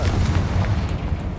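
A Confringo blasting spell going off in Hogwarts Legacy: a deep, rumbling boom that rolls on steadily for over a second, loud and close, with no voices.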